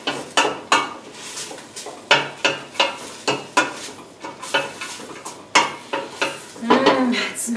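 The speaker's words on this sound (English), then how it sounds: "let's give this another stir around here" A spoon stirring garbanzo and black bean chilli in a pot, giving a series of distinct scraping knocks against the pot at a loose, regular pace, close up with a faint sizzle underneath.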